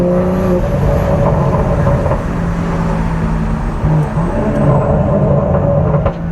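A BMW M340i is heard from inside on the road, with a loud, steady engine drone and road rumble and slight shifts in pitch as it accelerates and eases off, with no talk.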